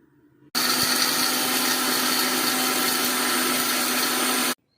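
A mixer grinder jar grinds eggshells into powder, starting abruptly into a loud, steady whirring drone that holds for about four seconds and then cuts off.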